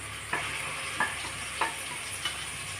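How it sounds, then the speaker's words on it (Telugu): A masala paste of coconut and poppy seeds fries in a pan with a steady soft sizzle, punctuated by four evenly spaced scraping stirs, faint and close. "కొబ్బరి, గసగసాలు మొత్తం అన్ని మసాలాలు వేసిన పేస్ట్ అయితే వేసుకుందాము"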